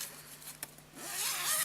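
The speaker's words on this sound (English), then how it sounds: "It opens up on the back, and you've got your little beaded zipper pull" A zipper on a lined bag is pulled open, a soft rasping slide that grows louder and brighter toward the end, with a quiet click partway through.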